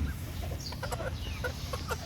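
Large roosters clucking in short, scattered bursts over a steady low rumble of background noise, with no one speaking.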